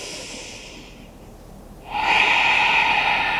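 Slow, deep breath during a yoga forward fold, a soft airy inhale that fades into a quiet pause before a louder, fuller exhale rushes out close to the microphone.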